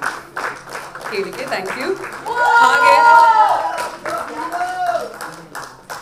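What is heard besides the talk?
audience clapping and applause at a Kannada movie event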